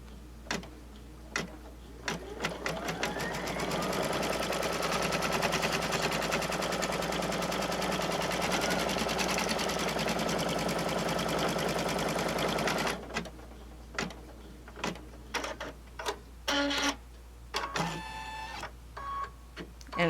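An embroidery machine stitches a zippered pouch in the hoop with a rapid, continuous mechanical chatter, then breaks into scattered clicks and short needle bursts as it jumps across to the other side.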